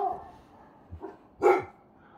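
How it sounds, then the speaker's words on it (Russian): Dogs bark a few times in a rural setting, short separate yelps and woofs at a moderate distance, the loudest burst near the end, with quiet gaps between. "Началась брехня собачья"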